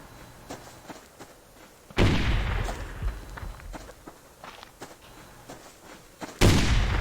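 Gunfire attacking the player's base in a video game: two heavy booming blasts stand out over scattered sharp distant shots and thuds, with no talking.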